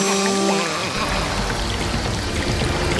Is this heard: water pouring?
yes